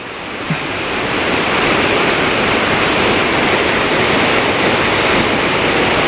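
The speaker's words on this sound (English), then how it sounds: "get right under the waterfall behind it, in that wee cave that's there" Eas Mor waterfall in Kildonan roars after heavy overnight rain, a loud, steady rush of falling water that builds over the first second and then holds constant, close and without voices.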